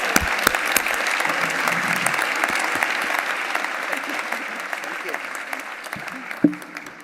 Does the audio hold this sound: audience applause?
yes